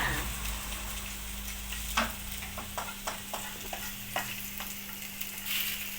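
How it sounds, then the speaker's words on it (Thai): Garlic stir-fried in oil in a pan sizzles steadily, with a few sharp spatula scrapes and taps against the pan and a low hum underneath. "ผัดกระเทียมให้หอมนะคะ"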